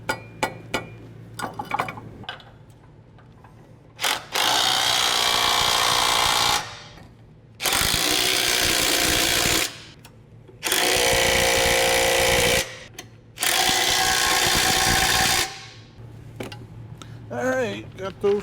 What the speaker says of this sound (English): Tighten all 4 bolts.